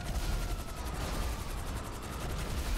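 Rapid gunfire from a flying tank in a video game, a dense stream of loud, fast repeated shots and rumbling blasts running continuously and close, with no talking over it.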